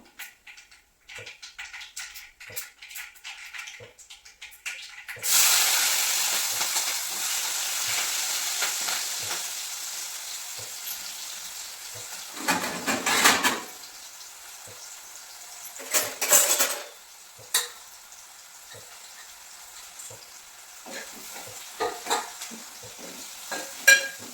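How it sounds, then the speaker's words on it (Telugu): Green chillies and onions hit hot oil already seasoned with mustard seeds, cumin and turmeric for a cucumber-tomato curry. After a few quiet seconds a loud, steady sizzle starts, broken by bursts of spoon-and-pan stirring. "నూనె అయితే వేడి చేసుకొని ఆవాలు జీలకర్ర కొంచెం పసుపు చేసుకున్నాను పచ్చిమిరకాయలు ఉల్లిపాయలు వేసేసుకుంటున్నాను"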